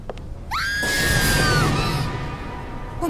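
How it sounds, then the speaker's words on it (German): A scream from behind a warped door in the video game Black Sails: one loud, rising, drawn-out shriek that swells and then trails off into a noisy hiss, with no talking over it. "Der Schrei kam aus dem Raum hinter dieser Tür."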